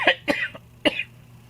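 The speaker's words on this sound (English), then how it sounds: "I got a cough drop and I still got a cough." A person coughs three times in quick short bursts, close and fairly loud, followed by quiet room tone.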